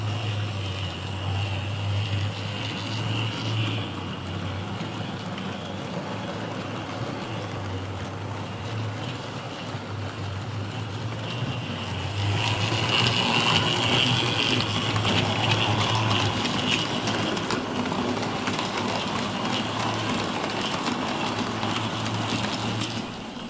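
Steady low rumble and rhythmic clatter of a freight train rolling past on the Midhurst Line, loud and continuous, swelling louder midway through.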